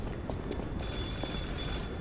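A telephone rings in the game Lies of P, a faint repeating bell tone over a noisy low rumble of game ambience, with a brighter, more sustained ringing layer coming in partway through.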